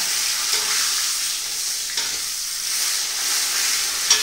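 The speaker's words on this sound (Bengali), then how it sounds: "এরপরে দিয়ে দেবো মাছের মাথাটা" A fish head frying in hot oil with bay leaf, five-spice and dried red chilli, giving a loud, steady, close sizzle throughout with a couple of faint clicks and no voices.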